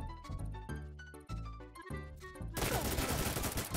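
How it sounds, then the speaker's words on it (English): Roblox FPS shotgun fire in close quarters: a few sharp heavy blasts crack over the game's tonal background, with a dense burst of loud gunfire noise at the end. "Another shotgun."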